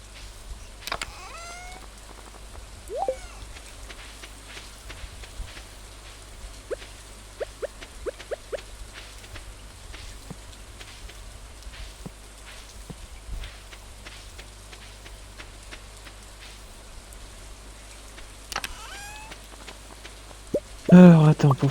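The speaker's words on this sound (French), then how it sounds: "il pleut" Rain falling in the farming video game Stardew Valley, a quiet steady patter with scattered soft drips and ticks throughout, plus a few louder bursts of game sounds near the end.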